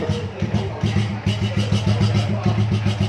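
An old 110cc motorcycle idles close by with the stock exhaust, a loud steady chugging pulse with a rapid repeating beat, while people talk nearby.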